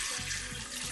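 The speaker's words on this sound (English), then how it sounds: "I'm going to leave that in the sink with hot water and a bit of fairy liquid" Hot water runs into a kitchen sink for a short spell, a steady close splashing rush that fills the whole moment without any speech.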